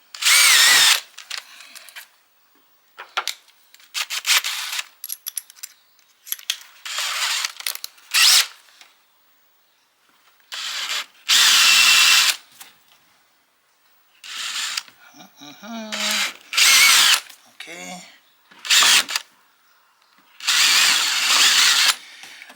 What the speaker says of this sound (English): Making a pilot hole.